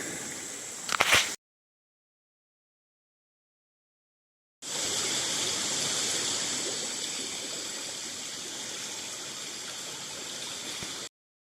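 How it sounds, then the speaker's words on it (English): A cold river flows past rocks, a steady close rushing hiss after a short burst of sound and a silent gap. "You got a super cold river right there."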